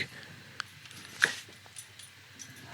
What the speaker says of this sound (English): I'm gonna go let the dog out real quick.